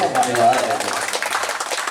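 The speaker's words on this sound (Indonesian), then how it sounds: "Tepuk tangan dulu buat Kordes Jatiluhur." An audience at a community gathering bursts into hand clapping that builds under and after a voice speaking over a sound system.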